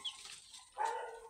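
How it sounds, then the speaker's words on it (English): A dog across the street yelps and barks, two faint, distant calls, a thin high yip first and then a fuller bark a moment later, with quiet gaps around them. "Always yelping, barking."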